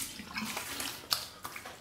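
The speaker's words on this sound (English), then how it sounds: "All right, do a cold water rinse." Cold water runs from a tap for a rinse after a straight-razor shave, a close, splashing stream with a couple of sharper splashes as hands move through it.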